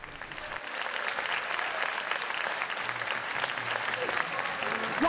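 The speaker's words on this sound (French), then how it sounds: "Un appel auquel a répondu le public niçois par des applaudissements nourris" Sustained, dense applause from a large audience in Nice at the Francophonie Games, steady and loud throughout with a constant wash of clapping.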